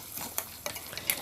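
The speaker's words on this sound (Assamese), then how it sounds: "এইখিনি এতিয়া ভালদৰে মিক্স কৰি লৈছোঁ আৰু ভালদৰে ভাজিব লাগিব" Elephant foot yam stalk with red chilli powder and turmeric is stirred in a frying pan, a quiet sizzle under a few soft scrapes and taps of a spoon against the pan.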